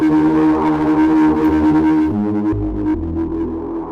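A heavy, gritty distorted bass tone plays steadily and loud, shifting pitch a couple of times as the texture changes.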